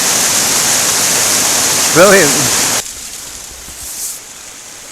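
A small burn in spate after heavy rain on Arran near Lamlash races downhill as a loud, steady rushing roar, broken by a brief spoken word before the noise suddenly drops to a fainter wash.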